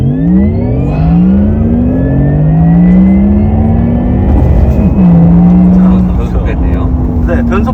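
A Porsche Taycan 4S electric car accelerates hard from a standstill under launch control, its rising motor whine sweeping upward continuously and loud throughout, with a shift-like dip partway, while people talk inside the cabin.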